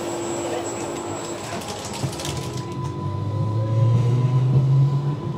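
An Isle of Wight train runs noisily over the bridge at the Brading passing loop, with a steady rumbling roar, squealing tones and a rising low drone toward the end.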